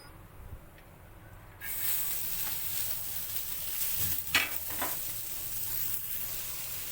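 Coriander, coconut, onion and rice being roasted in a pan for mutton gravy, with a steady close sizzle that starts suddenly and continues alongside occasional scraping stirs.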